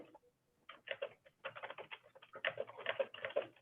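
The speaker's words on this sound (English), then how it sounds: "Sorry, typing." Rapid, close clicking of fingers on a computer keyboard comes in irregular bursts, quiet but distinct, with no one talking.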